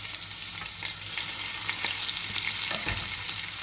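Green capsicum stuffed with qeema cooks over a low flame, giving a soft, steady sizzle with light crackles and an occasional stir of the pan.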